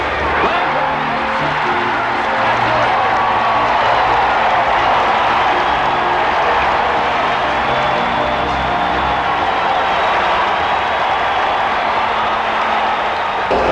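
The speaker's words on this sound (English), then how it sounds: "A standing room only crowd in Cincinnati on its feet." A standing-room-only baseball crowd in Cincinnati roaring for Pete Rose, a dense, steady wall of cheering and applause that stays loud throughout, with no breaks.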